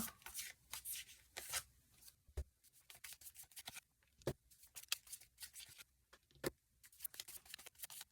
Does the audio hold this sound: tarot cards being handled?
yes